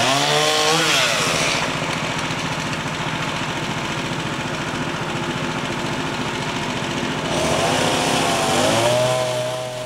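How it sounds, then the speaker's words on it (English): A chainsaw roars steadily at close range, its engine pitch dipping under load as it shaves into a log, then revving back up. "I just shaved the log with the chainsaw"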